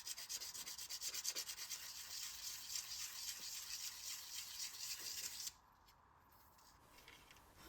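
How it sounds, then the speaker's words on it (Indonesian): Fine sandpaper rubbing the front of a balsa motor stick for an indoor flying model, close, quiet rhythmic scratchy strokes for about five seconds before dropping to near silence. "Amplas bagian depan dengan amplas yang halus"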